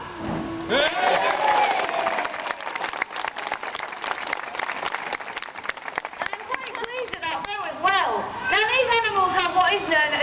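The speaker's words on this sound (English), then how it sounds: "please can we have a nice big cheer, everyone?" Audience at a sea lion show at Flamingo Land cheering, clapping and calling out together, a loud sustained crowd roar with children's voices rising above it, broken by a short dip before swelling again.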